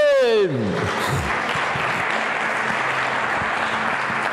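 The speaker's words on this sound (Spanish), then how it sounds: "Cuando le den un aplauso al Eterno" A church audience bursts into sustained applause for God right after a preacher's drawn-out voiced exclamation. The clapping is dense and even, holding steady to the end, with faint voices underneath.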